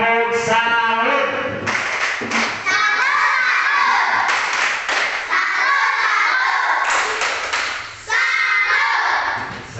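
Classroom applause from fourth-grade pupils after a group demonstration in a science lesson, a loud burst of clapping with children's voices and shouts mixed in, continuing in waves.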